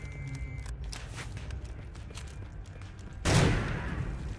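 Sporadic distant gunshots in the WW1 survival horror game Conscript, scattered cracks over a rumbling battlefield backdrop, then a louder blast near the end.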